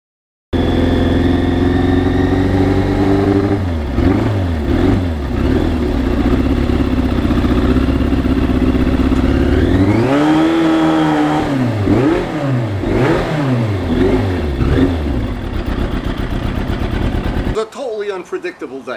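A 1991 Yamaha FZR 1000 motorcycle riding, its engine loud and steady, rising and falling through repeated revs and gear changes, with a brief drop near the end.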